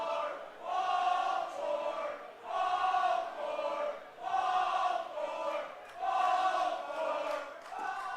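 A baseball crowd at an IBL playoff finals game, Toronto Maple Leafs at London Majors, jeers the batter in rhythmic swells of massed voices that rise and fall roughly once a second, steady and moderately distant.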